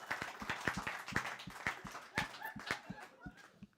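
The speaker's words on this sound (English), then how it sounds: "let's give a round of applause, folks, all these folks" Applause from a small audience at a company culture talk, rhythmic, fairly faint clapping with distinct individual claps in a loose steady beat.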